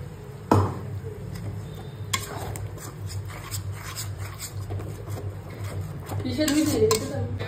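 Spiced masala with whisked sour yogurt is stirred in a pan for a fish curry, giving steady scraping and clinking of a utensil against the pan, with a sharp knock near the start and louder stirring toward the end.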